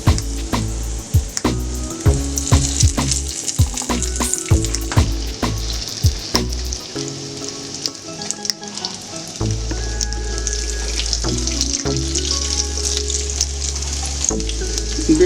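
Jamaican-style fish cakes sizzle and fry in a pan, a steady crackling hiss broken by knocks and scrapes of a utensil moving them around, with a louder, denser sizzle in the second half.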